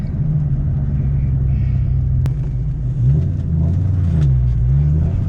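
A 2003–04 car with a newly fixed transmission crossmember mount, its engine droning steadily loud and close as it accelerates, pitch dipping and climbing again through a gear shift.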